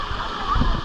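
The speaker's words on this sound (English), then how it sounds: "Get a better view of the waterfall." The waterfall at the Hilton Hawaiian Village Paradise Pool gives off a steady rushing wash of falling water. A voice is nearby in the foreground over it.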